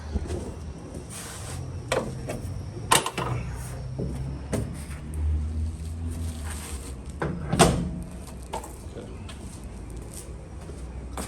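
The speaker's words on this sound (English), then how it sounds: "So let's close the hood again." The hood of a Honda Integra GSR under restoration drops shut, with a couple of sharp, close thumps and clunks as a person talks nearby.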